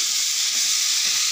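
Fried potatoes going into a sizzling spice masala for an egg curry, giving a steady bright hiss that holds evenly throughout, close and fairly loud with no talking.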